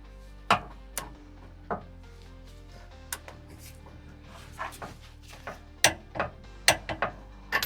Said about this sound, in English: All right, let's torque this side down.